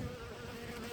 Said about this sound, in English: these bees are after me now